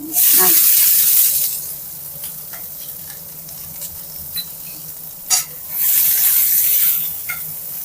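Mustard seeds, a chili and small shallots dropped into hot oil for egg beetroot rice burst into a loud, crackling sizzle, ease into quieter frying with scattered pops and stirring scrapes, then flare up loudly again.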